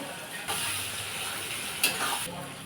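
Onions and green chillies frying in oil in a pan for chilli chicken, giving a steady close sizzle with a louder hissing surge as they are stirred partway through.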